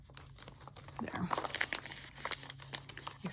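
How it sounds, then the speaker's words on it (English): Paper being crinkled and handled during a Bible journaling session, giving close, soft, irregular crackling and rustling that continues throughout at low volume. "now I crinkled my paper and I gotta flatten it out"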